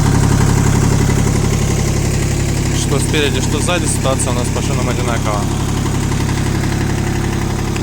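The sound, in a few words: Kubota L120 mini tractor engine idling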